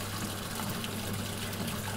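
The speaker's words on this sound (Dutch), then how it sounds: "Kijk, het eerste water loopt er nu uit." Water pouring steadily out of an outdoor barrel used as an aquarium, a continuous rushing gush, close and even in loudness throughout.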